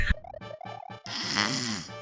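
A person snoring, a short run of rhythmic throaty rattles followed by one long, loud, raspy snore, close up and with no talking.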